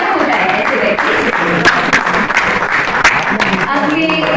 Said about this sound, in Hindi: तालियां हो जाए ऐसे व्यक्ति।